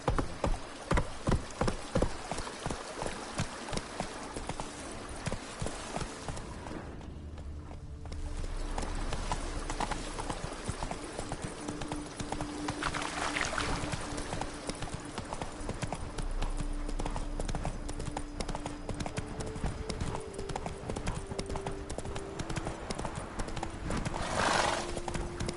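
Roach, a horse in The Witcher 3: Blood and Wine, gallops in a fast, rhythmic clip-clop of hooves that runs throughout, with a soft neigh and light rain-like patter mixed in at low volume.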